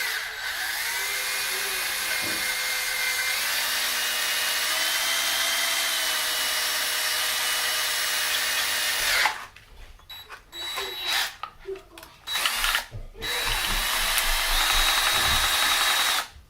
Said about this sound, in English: I'm going to drill it slow